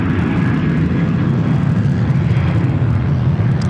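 A Boeing 737 departing Sydney Airport gives a loud, steady, close jet roar that holds at full strength throughout.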